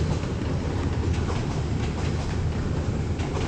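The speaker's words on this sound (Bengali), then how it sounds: "ঝকঝকাঝক ট্রেন চলেছে" A train rumbles past Bhawal Gazipur railway station in rain, a dense, continuous roar with a faint rhythmic clatter of wheels on rails, close and loud throughout.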